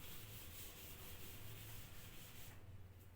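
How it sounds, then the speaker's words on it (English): A board being rubbed clean during a maths lesson on triangles, a continuous, fairly faint broadband scrubbing with soft rhythmic strokes, heard alone without talk. "let me rub the board"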